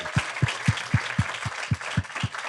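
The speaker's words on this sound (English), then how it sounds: "Round of applause for Virtus" Live audience applause fills a room in New York City during The Compound and Friends, with a broad hiss of clapping over a steady, deep thumping beat repeating about four times a second.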